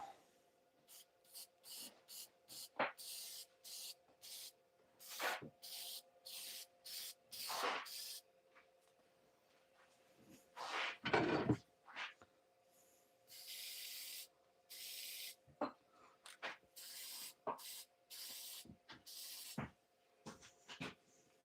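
Lacquer is sprayed onto a freshly turned wooden piece in short, repeated hissing bursts separated by brief pauses, fairly quiet and close, with a faint steady hum underneath.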